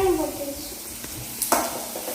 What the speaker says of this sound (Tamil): அப்போ தான் கொஞ்சம் சீக்கிரம் வெங்காயம் வந்து குக் ஆகும்